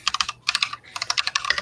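Rapid typing on a computer keyboard, crisp clustered keystrokes in quick bursts with short pauses, close and loud with no talk.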